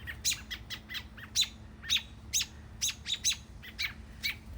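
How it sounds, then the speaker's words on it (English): Robins chase one another and call with a series of a dozen or so sharp, repeated chirps in quick irregular bursts, clear and fairly close over quiet outdoor background. "it looks like there's robins and there's a young, no doubt robin"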